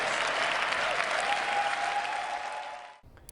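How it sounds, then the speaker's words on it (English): A large room crowd on its feet, cheering and applauding in a dense, loud, sustained roar of clapping that fades and cuts off after about three seconds. "when he said it, a large part of the room stood up and cheered"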